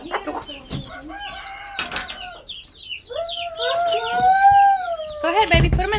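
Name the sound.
chicken clucking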